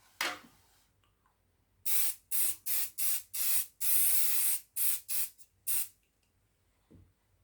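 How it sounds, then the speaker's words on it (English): An aerosol can of hairspray is sprayed onto a freshly pruned model railway tree: an early single puff, then a run of about eight close, short hissing bursts, one longer, before a faint final tap. "I'm going to give it a coat of hairspray now"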